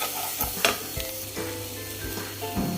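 Cumin and pepper are stirred into egg palya frying in a pan, with steady close sizzling and repeated scraping strokes of the spoon.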